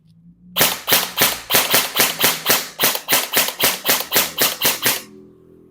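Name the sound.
HK airsoft gun firing in semi-auto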